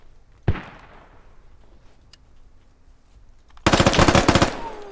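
Gunfire in the military shooter Squad during a 100-player urban battle in Fallujah: a single sharp shot fades into a quiet pause, then a loud rapid burst of automatic fire rattles close by.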